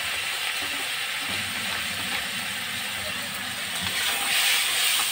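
Vinegar hits a hot pan of chili paneer, giving a steady broad sizzle and hiss that swells slightly near the end, with faint voices underneath.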